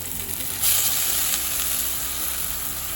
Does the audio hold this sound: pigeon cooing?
no